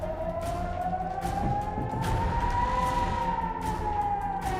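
A single loud wailing siren rises slowly and then falls in pitch, cutting clearly through a dense rumbling background in a war news segment.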